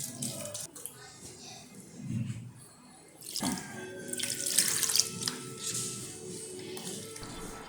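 Tap water runs into a pot for a Kerala fish curry, splashing in a louder gush partway through amid kitchen clatter, with a voice speaking faintly at times.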